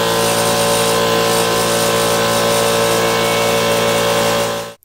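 A Harbor Freight air compressor runs about 5 feet away as a loud, steady mechanical drone with a constant hum that cuts off abruptly at the end.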